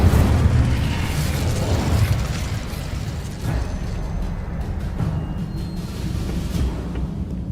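Spell combat in Hogwarts Legacy with the Incendio fire spell: a loud burst of fiery blast opens, then trails into a rumbling roar with further softer bursts, and no one speaks.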